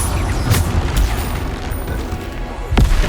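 Bombarda spell explosions in Hogwarts Legacy crack out as loud, sharp booms, several spaced across a few seconds over a rumbling combat background, with no talk.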